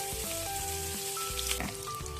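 Soft crackling sizzle of onion frying in lard in a pan, with tonal background hum and occasional clinks, no talking.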